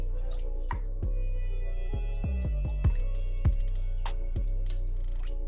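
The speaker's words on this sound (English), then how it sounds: "I've already added in my half teaspoon of lemon juice to my half cup of hot water. So I'm just gonna add that in now as well." Lemon juice mixed into hot water is poured into a vegan pepper jack cheese mixture cooking on the stove, a run of close, irregular drips and splashes with no talk.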